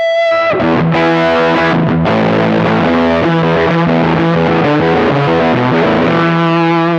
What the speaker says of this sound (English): The DST-550 that you are currently hearing is another Strat style guitar from Donner